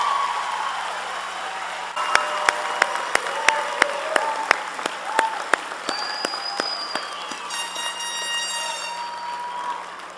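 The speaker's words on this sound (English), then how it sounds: "give yourselves a round of applause" Kaplan College graduates applauding at their commencement ceremony, a sustained wash of crowd clapping with sharp, evenly spaced percussive hits and a brief whistle-like tone partway through.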